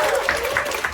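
A Grammy Museum audience claps and cheers at a Davido talk in a brief, steady wash of applause.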